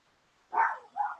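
Two quick dog barks, the second shorter, sound at a muffled distance from the next room during a work call, with no talk over them.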